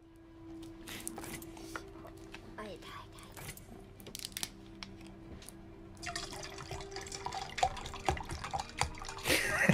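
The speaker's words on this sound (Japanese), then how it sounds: "絶対ペットボトル逆さにやってるからね。" Liquid glugs and splashes as it is poured from an upside-down plastic bottle, with drips and trickles rising in intensity toward the end while people talk over it.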